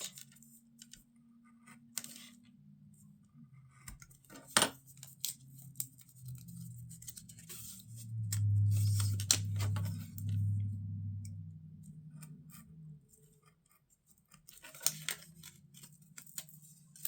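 Scissors snip through paper while cutting out a small paper file folder for a junk journal, a few sharp close clicks and soft cutting crunches spread over a quiet background, with no talking.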